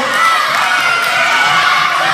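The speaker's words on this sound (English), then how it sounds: "Give a big cheer, guys, It's a massive run, a massive run." Children in an indoor sports hall cheer and shout during a school athletics race, a dense, high-pitched crowd noise that stays loud and steady throughout.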